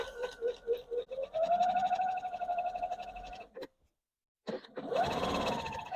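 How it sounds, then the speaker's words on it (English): A sewing machine back stitches a heavy pillowcase seam, its motor whirring steadily and close, breaking off briefly and then running again. "Back stitch to reinforce that."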